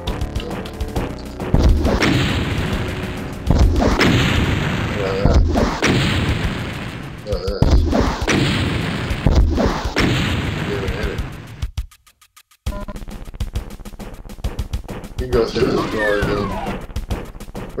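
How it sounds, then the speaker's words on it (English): Gunfire from enemy combat in the 1994-era shooter game Wolfenstein, loud repeated blasts and booming shots in several bursts, with a short silent gap before more shooting resumes. "Let's shoot him up in the head."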